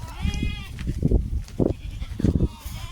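Several goats bleat in short, wavering calls, close by, with a few overlapping cries and some rustling in the background.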